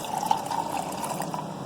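Hot brewed coffee, boiled in a cup of water, is poured into an iced mocha, giving a steady close liquid pour and splash for under two seconds with no talking.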